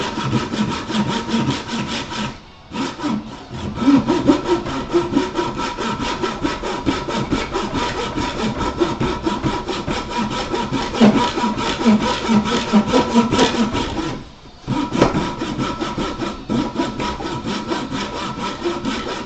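A wooden piece being cut by hand with a saw, steady rhythmic rasping strokes close up for the whole stretch, with two short pauses between runs of sawing.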